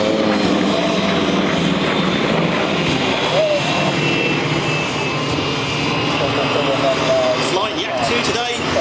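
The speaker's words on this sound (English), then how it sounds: "Yak 50s, one of the world's greatest aerobatic aircraft, designed by the legendary Sergei Yakolev" A Yak 50 aerobatic aircraft flies a display at an airshow, its engine drone loud and continuous throughout, rising and falling slightly as it manoeuvres overhead with outdoor crowd ambience.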